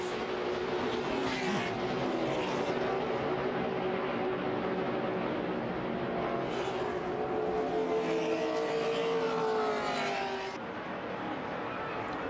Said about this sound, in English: Mike Wallace, and he's up and over.